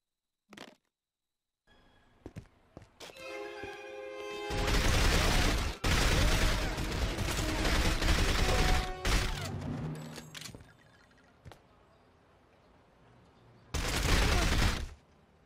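SMG gunfire in the From Russia with Love video game, Istanbul level: a sustained loud stretch of rapid automatic bursts, a short pause, then another dense burst near the end, with no talk.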